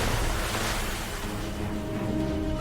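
Surging river waves used as a sound effect in a spooky Hindi folk tale, a steady broadband rush of water that swells and churns throughout without any voices.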